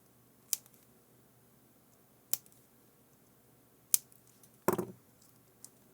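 Snips of a cutter trimming pins on a 5-pin terminal connector for an HME EOS HD 6200 or Ion IQ 6100 headset system: four sharp, isolated clicks spaced over several seconds, the last a slightly doubled crunch, close and fairly quiet with no talk.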